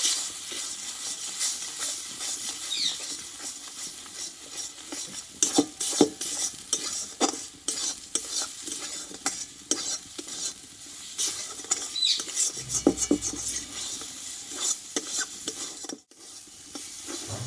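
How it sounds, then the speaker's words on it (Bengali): Spice masala with ground cumin and coriander being stirred and fried in a pan for a vegetarian ash gourd dish, with a steady close sizzle and repeated scraping stirs throughout and no talk. "দিয়ে মশলাটা আবারও কিছুক্ষণ আমি ভালোভাবে কষিয়ে নেব"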